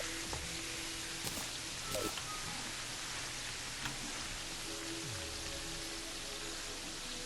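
Steady, soft rain hiss from the video game Terraria fills the scene, a low, even wash with a few brief game clicks and tones, no voices.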